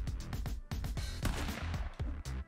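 Rapid gunshots in the Stick Fight video game: a close, loud string of sharp cartoonish bangs in quick bursts, with brief pauses between volleys.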